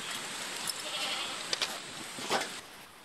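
Goats bleat in short, wavering calls high on Yala sacred mountain in Tibet, over 4,000 metres up, against a steady rush of wind or outdoor noise.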